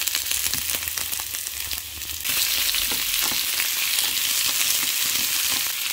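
Chiles and tomatoes fry in a pan with a dense, continuous sizzle and crackle up close, growing slightly louder partway through.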